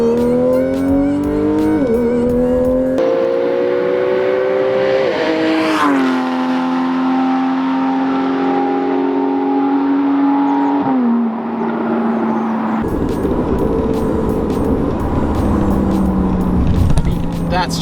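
A TechArt-tuned Porsche 911 GTS of the 991 generation revs hard toward redline in sport mode, its engine note climbing in pitch, dropping at a shift, then rising again. The engine is loud and close, with a rough burst near the end.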